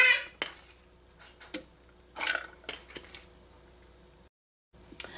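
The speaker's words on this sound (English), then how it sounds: "when your dal or split pea has cooled down, you're going to place half of it in your food processor" Cooked split peas (dal) being spooned into a food processor bowl, with a few sharp clinks and scrapes of a utensil against the container, separated by quiet gaps.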